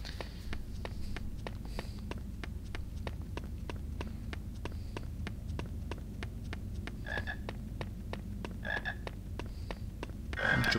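A chocolate frog in a Harry Potter video game gives a string of quick, evenly spaced croaks and hops over a low game ambience, with a few brighter chimes near the end.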